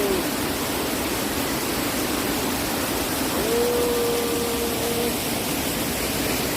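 Large waterfall near a village, a broad steady roar of rushing water, constant and enveloping, with a faint tonal whistle briefly audible above it.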